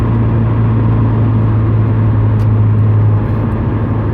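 A 2.0T Hyundai Genesis Coupe with a Solo Performance catback exhaust gives a deep, steady rumble at close range, loud and continuous, with only a slight lift in revs.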